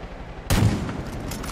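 A single sharp gunshot in the video game Far Cry 5 bursts out loud and close, then trails off into a decaying rumbling echo.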